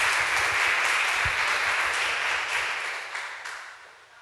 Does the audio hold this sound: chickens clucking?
no